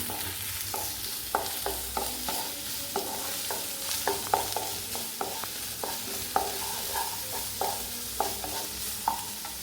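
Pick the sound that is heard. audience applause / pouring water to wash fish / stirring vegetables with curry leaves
stirring vegetables with curry leaves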